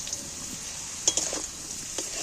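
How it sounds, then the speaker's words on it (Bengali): Potatoes frying in a pan until browned, a faint steady sizzle with a few soft scraping and clinking stir sounds close by. "আলুটা সুন্দর ভাজা হয়েছে"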